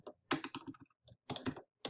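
Fingers type on a computer keyboard while entering a search, giving close, irregular bursts of clicking keystrokes separated by short pauses.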